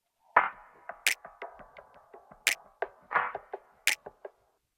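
A sparse drum loop of sharp snaps and light clicking percussion hits in a loose repeating rhythm, with no voices.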